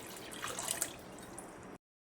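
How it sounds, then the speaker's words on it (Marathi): Water is poured into a kadhai in a brief splashing trickle, fairly soft and close, cutting off after under two seconds. "कढईमध्ये पाणी घालायचं आहे"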